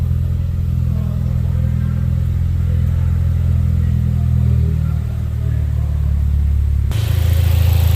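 A 2017 Ford Focus RS EcoBoost engine, with a newly replaced catalytic converter and turbo oil feed, idles steadily as it warms up, a close, even low rumble that holds for the whole stretch with a slight lift near the end.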